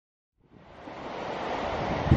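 Sea waves wash onto the shore, a broad rushing hiss that swells up out of silence and grows steadily louder as it rolls in.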